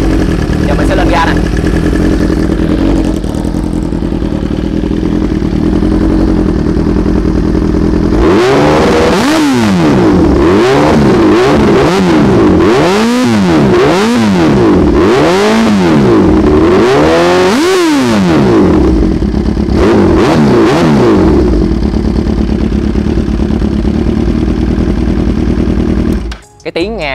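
A Suzuki GSX-R1000R sport motorcycle engine idles loudly, then is revved repeatedly in rising and falling bursts before settling back to a steady idle, close and dominant throughout.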